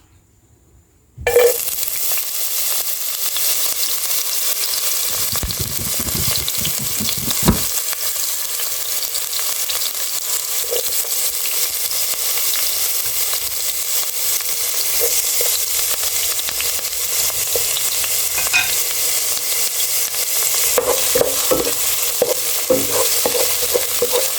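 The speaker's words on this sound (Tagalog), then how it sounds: "Ayan, magigisa na ako dito. Unahin ko muna yung bawang." Garlic sizzles in hot oil in a pan for fish sarciado, a sudden loud burst of frying that settles into a steady close hiss with occasional stirring scrapes.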